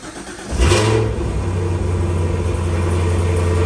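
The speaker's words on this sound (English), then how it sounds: "Car is started," A Cadillac CT4/CT5 V Blackwing engine cranks and fires up with a sharp rev, then settles into a loud, steady deep idle rumble close by, with no talk.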